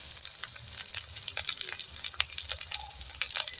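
Ginger garlic paste frying in a pan for a spicy bhola fish curry, a steady close sizzle with scattered small crackles and faint stirring clicks throughout, no voices.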